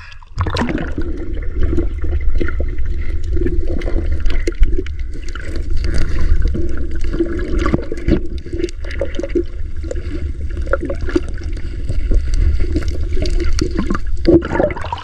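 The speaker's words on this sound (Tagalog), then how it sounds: "Maalon talaga, mga idol ba? Ari king. Ha? Tingnan nyo alon, oh." Rough sea waves slosh and splash around a small fishing boat, a steady loud wash of water with engine-like low rumble throughout, no talking.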